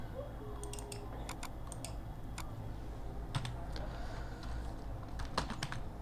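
Typing code on a computer keyboard in a C programming lesson, a steady run of light key clicks with a few sharper taps, close and fairly quiet over a low background hum, with no talk.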